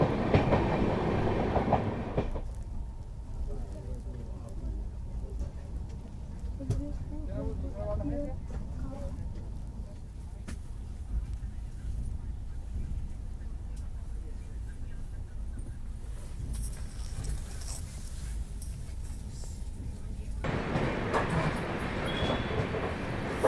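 An Indian passenger train bound for Kashi runs along the tracks with a steady rumbling roll and faint rhythmic clatter. A brighter burst of wheel and wind noise swells near the end.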